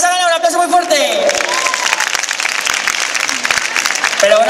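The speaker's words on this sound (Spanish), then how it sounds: "Bueno, pues Inés ha ganado, un aplauso muy fuerte." Loud audience applause with cheering crowd noise at a children's dance contest in Valencia, sustained clapping over a bright, dense wash, with speech-like voices and shouts mixed in near the start.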